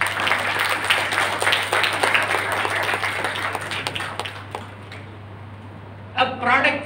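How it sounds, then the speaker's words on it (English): Audience clapping at an entrepreneurship seminar, a steady broadband patter of many hands sustained for several seconds before thinning out, with a voice and a short burst of sound near the end. "You can clap."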